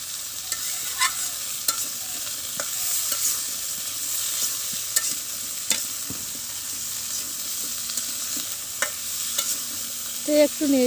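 Cauliflower stems fry and get stirred in a pan over a wood-fired stove, a steady crackling sizzle broken by scattered scrapes and knocks of the stirring utensil, with a brief louder clatter near the end.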